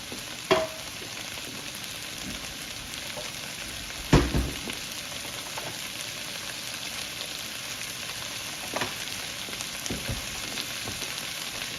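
Bok choy and fried rice ingredients fry in a pan with a continuous crackling sizzle, close by, broken by a few sharp clanks and taps of a utensil against the pan.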